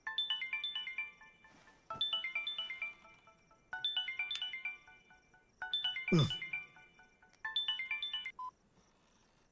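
A telephone ringtone in a Hindi-dubbed South Indian action film plays a bright, repeating electronic melody in about five bursts, loud and clear, with a short swoosh near the end.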